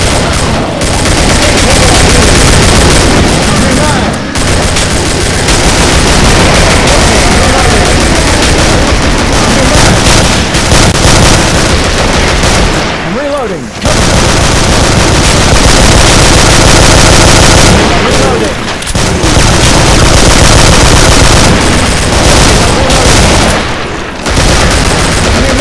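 SCAR rifle gunfire in a video game: sustained, very loud automatic fire with heavy booms, nearly continuous for over twenty seconds with only brief pauses, and a voice briefly audible.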